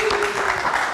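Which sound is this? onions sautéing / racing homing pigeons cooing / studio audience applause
studio audience applause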